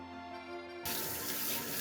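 Running tap water starts abruptly and keeps gushing steadily as a large whole sweet potato, about 700 g, is washed with its skin on under the faucet in a kitchen sink, close and fairly loud.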